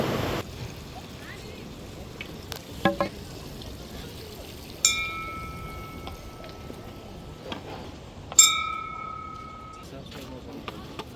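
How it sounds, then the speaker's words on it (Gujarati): Cold Mandakini river water running straight down from the Himalaya near Sonprayag on the Kedarnath route, a steady, close broadband rush throughout, broken by a few knocks and two short electronic beeps. "મંદાકિની રિવર ડાયરેક્ટ હિમાલયમાંથી આવે છે"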